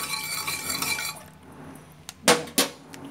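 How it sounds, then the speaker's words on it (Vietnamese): A utensil stirs a mixture in a bowl for a pandan cake with milk filling: a soft, continuous swishing for about a second, then a pause and two sharp, close clinks against the bowl. "mình quậy lên nha các bạn"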